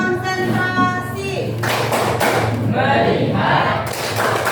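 A classroom of students performs the rhythmic 'tepuk konsentrasi' clapping routine, with bursts of clapping taps and thuds following a teacher's spoken cue and children's voices mixed in.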